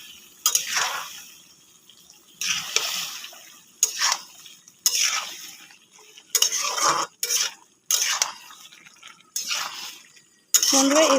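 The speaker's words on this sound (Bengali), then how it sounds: "একটুখানি বাটিটা ধুয়ে জল দিব। ভালো করে নাড়িয়ে নেব।" A spoon stirs and scrapes through a pan of mustard-sauce potato and drumstick curry after water from a rinsed bowl is added, in repeated loud metallic bursts separated by short pauses.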